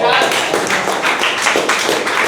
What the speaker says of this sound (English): Can we have a round of applause for Chirag?